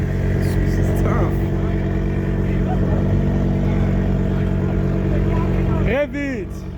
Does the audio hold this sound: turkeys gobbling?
no